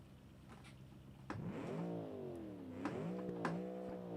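A car engine in the Automation game revs up from idle with rising harmonic sweeps, then climbs and dips through a couple of loud, close revs with no one talking.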